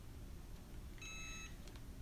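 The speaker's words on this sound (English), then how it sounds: "So just wait for the beep." An Easy Press heat press timer gives a single short electronic beep, a clean high tone lasting about half a second, over a quiet background hum.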